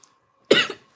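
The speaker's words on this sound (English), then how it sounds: "you're making me cough." Two sharp coughs close by, the first a longer raspy burst and the second starting just as the recording ends.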